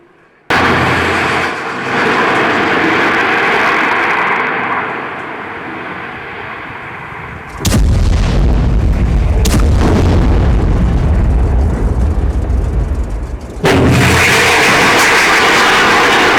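Hezbollah rocket fire aimed at Israeli soldiers produces loud, heavy booms and rushing blasts that break in suddenly, with a sustained roaring rumble between the bursts, close and harsh, with no talk.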